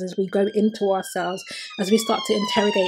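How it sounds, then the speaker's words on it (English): A passing emergency siren wails steadily outside, its rising and falling tone heard clearly beneath a woman's ongoing speech. "Sorry about that siren."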